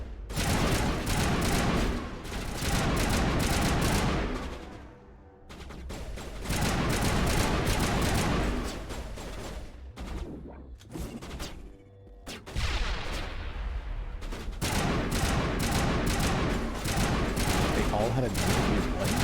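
Loud, sustained bursts of rapid machine pistol fire from a Mass Effect 1 firefight fill most of the stretch, broken by a few short pauses, with a voice talking over the shooting.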